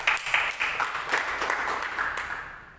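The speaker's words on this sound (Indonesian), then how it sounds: "Tepuk tangan buat Tuhan Yesus" A church congregation at a worship service claps in applause, a lively patter of many hands that starts strong and gradually fades over a few seconds.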